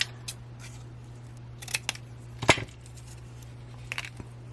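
Scissors snip through a tube of folded paper in a few sharp, close cuts over a steady low hum, with quiet gaps between the snips.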